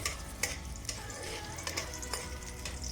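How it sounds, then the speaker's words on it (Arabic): Onion frying in a little oil in a pan at the start of making lentil soup, a steady low sizzle with occasional soft clicks of stirring, fairly faint and without talk. "طبعا هنا خليت قليل من الزيت. هنا دا احط البصل"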